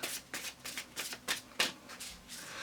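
A deck of oracle cards is shuffled in a series of quick riffling bursts, about eight close, soft rustles spaced in an uneven rhythm, with no talking.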